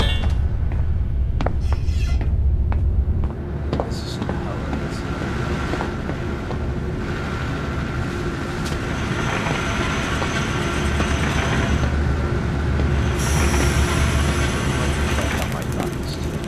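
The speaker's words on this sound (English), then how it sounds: "Now activate the lever to lower the gadget trolley." A gadget trolley lowers in the video game Zoochosis with a continuous mechanical rumble and rolling clatter, loud and steady, rising into a brighter grinding hiss toward the end.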